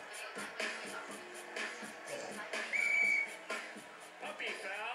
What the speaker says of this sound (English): asking for the whistle again.